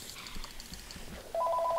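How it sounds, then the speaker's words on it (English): A phone rings in the room, a short electronic trill that starts abruptly near the end of a quiet stretch of faint background noise. "Sorry, that's my phone."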